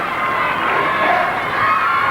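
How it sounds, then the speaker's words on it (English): A crowd at a 1986 Davis Cup final tennis match between Pat Cash and Mikael Pernfors cheers and shouts in a continuous roar, loud and dense for the whole moment. "this crowd is cheering Sweden now"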